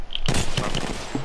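Gunfire in the video game Apex Legends, a sharp loud shot cracking in at once, followed by dense rapid bursts and impacts through the rest of the moment, with another sharp report at the end.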